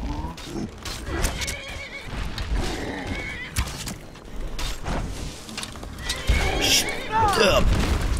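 A horse in the video game Skyrim whinnies near the end with a sharp, descending neigh, following a stretch of clattering, thumping activity and bursts of noise.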